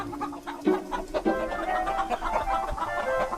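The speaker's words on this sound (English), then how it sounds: "So the chickens were unloaded." Chickens cluck and squawk as they are unloaded from a small steam engine's train at a school in a children's animated show, with busy overlapping fowl calls throughout.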